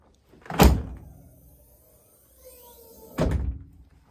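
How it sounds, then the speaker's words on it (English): Two solid thunks of a car door slamming shut during a full body rundown of a car, the first louder and closer, the second a few seconds later, with quiet between. "Close the door."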